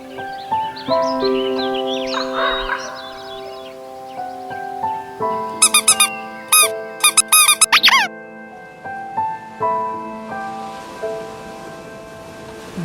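A cartoon crow caws in a short, quick burst of several harsh calls midway through a bright children's song, with the melody carrying on before and after.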